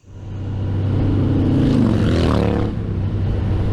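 A 2018 Honda Goldwing motorcycle riding on the road, its engine a steady loud drone that rises in pitch as it accelerates, with wind rush and no talking.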